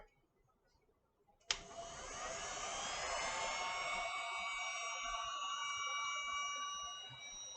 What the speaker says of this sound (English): This heating gun heats up pretty quick and really, really hot, so be careful.